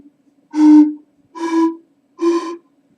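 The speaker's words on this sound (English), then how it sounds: "band came up with a set of panpipes that sound something like this" Three breathy notes from a 13-pipe tuned panpipe set played one after another, each held about half a second with clear pauses between, airy and close.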